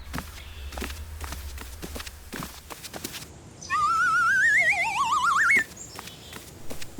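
Cartoon kittens march with a quick, steady patter of light footsteps. A bright warbling whistle-like cartoon effect follows briefly.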